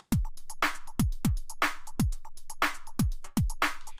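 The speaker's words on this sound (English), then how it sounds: "Each MIDI note is playing the slice of a loop." Sliced drum loop triggered note by note from a MIDI track, a steady beat of punchy kicks, bright snare-like hits and ticking hats repeating in tight time, loud and alone.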